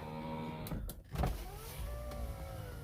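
A Mitsubishi Eclipse GSX's power window motor whirs steadily up close, its hum shifting pitch slightly as the glass travels, with a brief click partway through.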